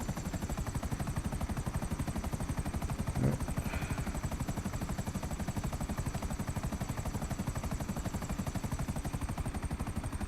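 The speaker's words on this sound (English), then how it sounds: "evade these choppers." Helicopter rotors chase the player in the video game GTA Online, a steady, loud, pulsing chop throughout with a brief burst of gunfire partway through.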